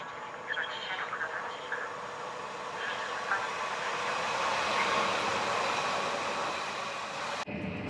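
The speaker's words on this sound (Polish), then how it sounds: "Muszę częściej przychodzić na dworce, patrzeć na pociągi." A train at a railway station in Poznań gives a steady, broad rumble that fills the whole stretch, with faint voices and station noise mixed in beneath it and a brief break near the end.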